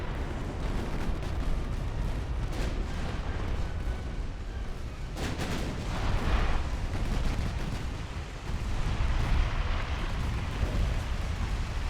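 Heavy naval gunfire from warships in Ultimate Admiral: Dreadnoughts, a dense, continuous rumble of cannon blasts and booming impacts that rolls on for the whole stretch, loud and thick with a sharper crack near the middle.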